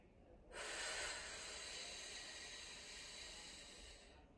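A long, steady breathy exhale during a stomach-tightening exercise, an airy hiss that starts abruptly and holds for about four seconds before cutting off, close and clear with no talk.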